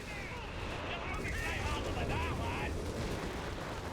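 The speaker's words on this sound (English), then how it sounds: "He's walking back into the barraging." A rumbling artillery barrage in the real-time strategy game Company of Heroes 3, steady booming impacts blurring into a continuous roar, with a voice talking faintly over it.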